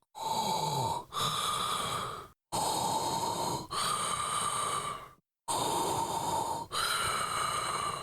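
A voice imitates Darth Vader's mechanical respirator breathing, giving three loud, close inhale-exhale cycles with short silent gaps between them.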